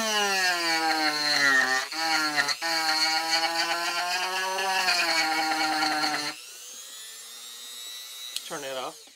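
A Dremel rotary tool fitted with a 490 dust blower whines at a high steady pitch while working on a piece of wood, sagging slightly under load, then winds down and stops partway through, leaving a brief faint whir.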